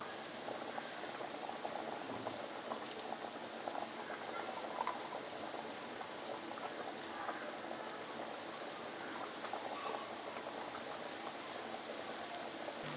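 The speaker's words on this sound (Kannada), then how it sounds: "ಒಂದು ಕುದಿ ಬರಲಿ." Dry fish sambar boiling in a pot, a continuous soft bubbling and popping simmer, steady and close, with no talking.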